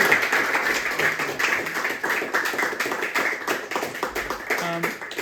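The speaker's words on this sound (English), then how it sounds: "can I have a huge round of applause for Mr." An audience claps for animator Tim Searle at a London animation club Q&A, a steady run of moderate applause with a voice briefly heard through it.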